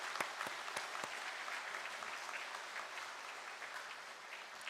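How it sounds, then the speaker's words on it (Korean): A church congregation at a Sunday Methodist service claps to welcome a guest, starting with a few sharp nearby claps and settling into steady, moderately soft applause throughout. "우리 박수로 환영하겠습니다."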